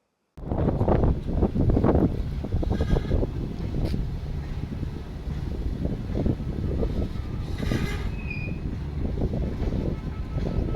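A train passing over a railway track at a station, a continuous loud rumble with rattling bursts throughout, heard alone without talk.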